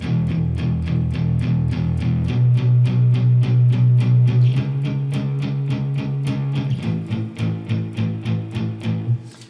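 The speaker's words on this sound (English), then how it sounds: "then after that you can add a distortion and just do the same chord" A distorted electric guitar strums chords in a steady rhythm, loud and sustained, with the chord changing partway through.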